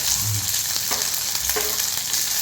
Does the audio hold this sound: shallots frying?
yes